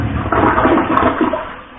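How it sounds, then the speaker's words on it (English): A new one-piece low-flush toilet gives its larger flush, a loud close rush of swirling water that fills the whole moment, easing slightly toward the end, with no voices. "we'll just push this one, because that's the larger flush"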